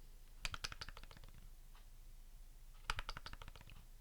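A Razer Bungee V2 mouse bungee is tapped in two quick bursts of light plastic clicks and rattles, close and fairly quiet, with a short pause between them.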